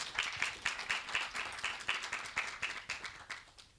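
Applause from the audience at a business branding summit, a steady patter of many hands clapping at moderate distance that keeps going throughout without any talk.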